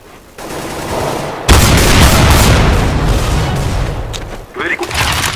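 Dense, loud gunfire rattles through a Counter-Strike match, a sustained burst of shots with booming low end that tapers off, followed by a few scattered shots.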